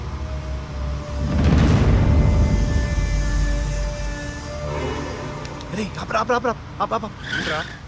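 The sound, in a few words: car driving past and skidding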